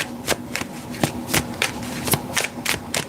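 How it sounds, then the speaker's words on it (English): A deck of tarot cards is shuffled close up in quick riffling bursts, roughly ten sharp flutters in steady succession with soft handling between them. "Shuffling for Leo."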